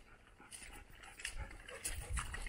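A dog pants quickly and noisily nearby on a countryside path in Czechia, short rhythmic breaths over outdoor background noise.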